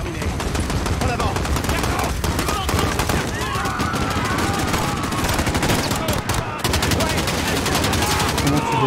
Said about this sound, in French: Des coups de feu, plusieurs agents touchés.